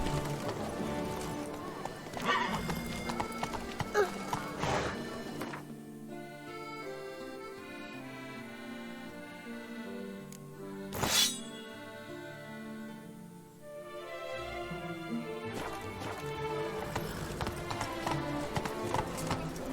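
Roach, a horse in The Witcher 3: Blood and Wine, clip-clops and whinnies in a steady rhythmic gait, with game music playing throughout and brief talk near the start.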